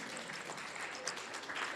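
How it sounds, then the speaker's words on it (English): Faint, distant clapping from an audience at a graduation event, a short soft patter of many hands with no voices over it. "let's give a round of applause"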